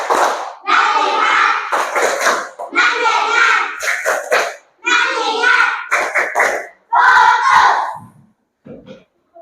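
A group of children chant together in loud rhythmic bursts, clapping along in short repeated phrases with brief pauses between.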